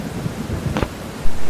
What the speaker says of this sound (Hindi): गौरी का घर भी बारिश में डूबने वाला था